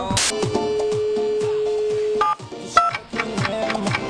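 A telephone call attempt in Bolivia that fails: short keypad dialing beeps, then a steady held call tone lasting about a second and a half, followed by more irregular beeps and tones, moderately loud and close.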